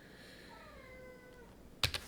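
A house cat wanting to go outside gives one drawn-out, wavering meow, fairly faint in a quiet room, followed by a couple of sharp clicks from a computer keyboard.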